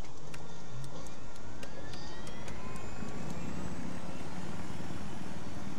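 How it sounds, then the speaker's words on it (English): Helicopter flight in the video game Battlefield 3, a steady rotor and engine roar with a broad rumbling wash and faint repeated ticking, continuous and fairly loud with no talking. "Helicopter flight in Battlefield 3 has never been easier, thanks to 3DConnexion."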